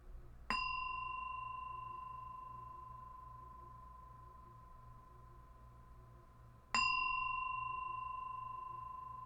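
A clear meditation bell rings twice, several seconds apart, each strike leaving a long, pure tone that slowly fades into quiet.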